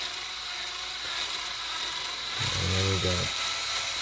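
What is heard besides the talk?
drill bit drilling into a Hot Wheels car post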